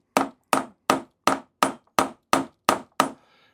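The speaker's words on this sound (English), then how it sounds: "These carriage bolts have a square shoulder, and what you do there is drive that in and drive the square shoulder in" A square-shouldered carriage bolt is driven into a wooden picnic table with eight sharp, evenly spaced hammer blows, each one loud and close with a quick decay, followed by a faint trailing sound.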